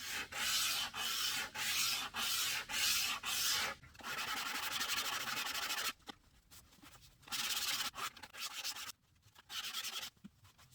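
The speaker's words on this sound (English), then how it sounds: "You can do the aggressive sanding on this side on the flat hard surface" Rhythmic back-and-forth rubbing of sandpaper on the wooden edge of a pull-out step stool, close and even at first, then continuing in longer strokes with brief pauses.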